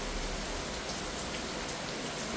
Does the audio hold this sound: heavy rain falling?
yes